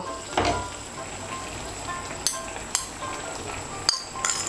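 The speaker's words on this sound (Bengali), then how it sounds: "রাঁধুনি বাটাটা ভালো করে মিশিয়ে নেব।" Radhuni seed paste being stirred into vegetables in a hot pan for Bengali sukto, giving a soft steady sizzle with a few scraping clinks of a spoon against the pan.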